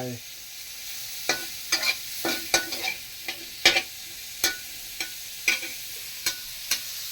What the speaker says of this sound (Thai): ผัดผักนะเพื่อน ๆผักผัดผัก